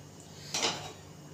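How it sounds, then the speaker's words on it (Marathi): A pressure cooker is set down on a kitchen stove while vangi is being prepared: one short metallic clunk and rattle, close and moderately loud, against a faint steady hum. "आता मी इथे कुकर ठेवलाय."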